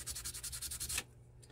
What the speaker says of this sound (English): Let's sand the inside of this so that we have smoothness when it's time to do our cleanup.